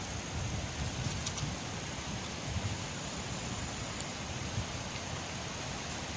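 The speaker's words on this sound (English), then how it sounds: "You can hear the wind. It's a windy day." Steady broadband wind noise buffets the microphone outdoors among river gravel, constant and fairly loud, with no talking.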